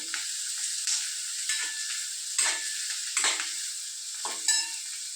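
Onion and tomato sauté in a hot pan, a steady bright sizzle broken by several scraping stirs of the spatula at irregular intervals, close and clear with no talking.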